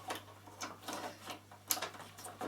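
Bobbin dropped into the bobbin case of a Bernina sewing machine with a shirring foot, giving a few light, close plastic-and-metal clicks and taps over a quiet room hum.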